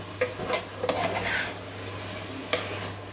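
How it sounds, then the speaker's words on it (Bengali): Mutton and Gobindobhog rice stirred together in a pot, with a few sharp spoon scrapes and knocks against the metal over a soft, steady low sizzle, no talking. "আমি মাটনটাকে মিক্সড করে দিলাম, চালটাকে মিক্সড করে দিলাম"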